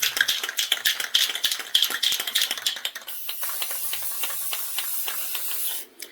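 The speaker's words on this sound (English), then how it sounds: "I just use this, just regular old crystal clear enamel spray paint." Steady hiss of an aerosol can of crystal clear enamel spray paint, broken into short bursts at first and then held in one long continuous spray before cutting off.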